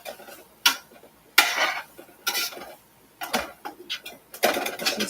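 A spoon scrapes and clinks against a pan of Irish stew made with potatoes and fresh rosemary, several irregular stirring strokes close by between short quiet gaps.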